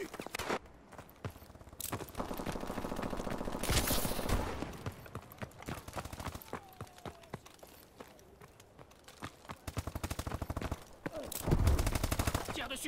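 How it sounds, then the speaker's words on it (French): Sustained suppressive gunfire in the shooter Call of Duty: Advanced Warfare, with dense rapid automatic bursts and clattering impacts running through most of the stretch, surging loudest near the middle and the end. "Tir de suppression, je recharge."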